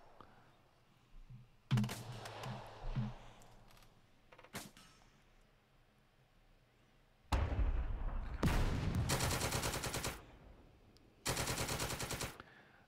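Gunfire in a World War II tactical video game set in sand dunes, with scattered bursts early, then long loud rattling machine-gun volleys in the second half, no speech.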